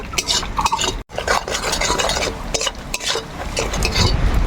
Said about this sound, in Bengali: আর আছে হচ্ছে অল্প হলুদ গুঁড়া আমরা কিন্তু মশলাগুলা ভালো করে কষে নিব